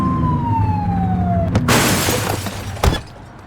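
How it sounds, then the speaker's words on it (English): A police car siren in a police video game wails with a falling tone, followed by a loud burst of crashing noise and a sharp hit near the end. "Get behind them and flip the siren to make them pull over."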